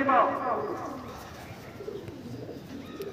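Madras pigeons coo inside a loft, a soft, throaty burst near the start that then fades into faint murmuring beneath a person's talking.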